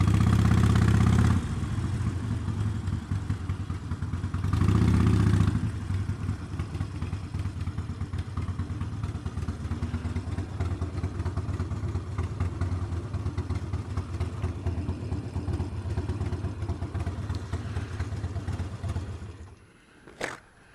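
A motorcycle engine idles at a bikers cafe in Acton, a steady close rumble that runs almost unbroken for the whole stretch, swelling briefly twice before fading out at the end.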